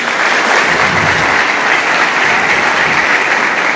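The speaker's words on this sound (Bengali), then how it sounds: "তোমরা একটা জোরে হাততালি দাও তো।" Students clap together in a loud, dense burst of applause that holds steady and close throughout, with no talk over it.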